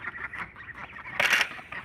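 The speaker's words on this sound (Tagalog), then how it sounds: "Ayan guys, ang daming manok dito guys." Many chickens and other farm fowl cluck and squawk close by. The calls are scattered through the clip, with one loud, harsh burst of squawking partway through, and no one speaks.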